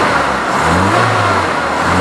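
A JDM Isuzu 117 Coupe XC PA95 engine, warmed up, revs up loudly and close by, a steady rising drone with no talking.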